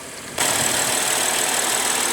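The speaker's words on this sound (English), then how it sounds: "Now under the hood you will find BMW's 3-liter inline twin-power turbo 6-cylinder engine." A 2014 BMW X5's 3.0-liter twin-turbo inline six-cylinder engine settles into a steady idle right after a brief quiet moment, a continuous close hum with a faint high whine on top.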